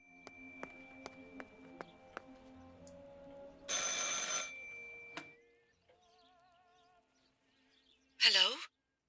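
A telephone rings in the video game Martha Is Dead, with a steady run of evenly spaced rings followed by a burst of louder electronic noise and a short warbling tone, then a brief harsh chirp near the end.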